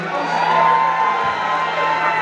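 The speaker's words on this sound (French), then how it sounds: "Aidez-moi avec un tonnerre d'applaudissements" Loud crowd at a gala cheering and whooping, with shouts rising over a dense wash of applause, sustained for a couple of seconds.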